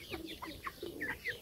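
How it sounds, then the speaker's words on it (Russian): Broiler chicks and ducklings in a makeshift pen give soft, overlapping peeps and chirps, with low murmuring clucks, faint and continuous. "Здесь я выращиваю и уток,"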